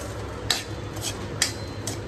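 Spoon scraping a pan in a few sharp strokes while semolina roasts in ghee, with a steady low background hum and faint crackle.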